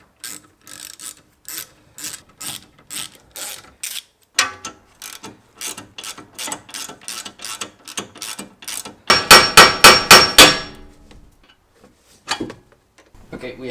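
Rapid ratchet clicks from a hand tool working on wheel hub studs during a BMW brake job, in repeated runs of clicking with a louder, faster burst midway and short pauses between.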